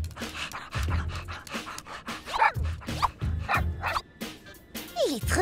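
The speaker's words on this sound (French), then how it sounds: "Il est trop mignon, son petit toutou." A small dog pants rapidly up close, breaking into several high yaps and whimpers between breaths.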